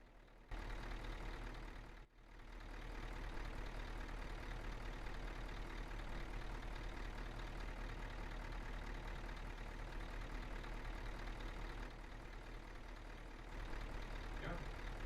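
A steady, loud truck engine idles in Euro Truck Simulator 2 with a low rumbling drone that holds throughout, briefly dipping once early on, with no voices.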